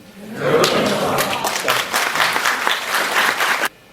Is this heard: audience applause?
yes